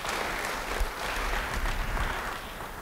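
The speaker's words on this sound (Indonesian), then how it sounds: "Beri tepuk tangan bagi dia" A church congregation applauds for a speaker, a steady dense wash of clapping throughout, moderately near, with no talking over it.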